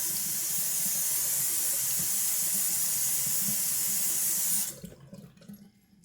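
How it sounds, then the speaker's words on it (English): Cold tap water runs steadily into a sink with a hissing rush for a rinse after a shave, then shuts off, leaving faint handling noises. "little cold water rinse."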